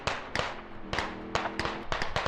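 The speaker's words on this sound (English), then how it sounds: "Gunfire does grab his attention here." Sharp gunshots crack in quick irregular bursts during a Squad video game match, several separate shots spread across the moment at mid distance, with a low steady tone running beneath.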